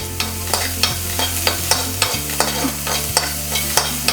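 Half an onion fries in melted butter in a pan. There is a steady sizzle, with regular scraping strokes from stirring about every half second, close and clear, and no talk.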